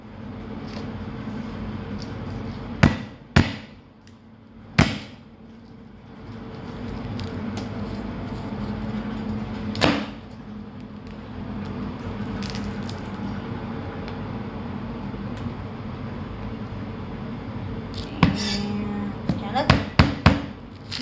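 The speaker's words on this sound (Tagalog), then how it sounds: "Pipitin ang ginger. Pitpitin ang ah, garlic." Ginger and garlic pounded to crush them for a home-cooked Filipino dish, heard as a few sharp separate knocks spread across the stretch, with a quick cluster near the end, over steady kitchen background and some talk.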